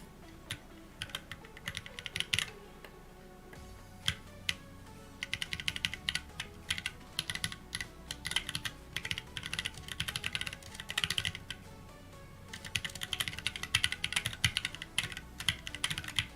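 Computer keyboard rattled by fast, irregular typing of code, close and clear, with short pauses between bursts of keystrokes and no voices.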